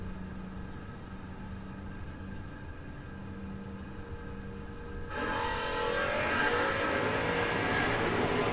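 Drag race between a Plymouth Duster and a long-roof Mopar at a no-box 660 shootout: a steady engine drone gives way to a louder, broader roar as the cars launch and accelerate, with no talk.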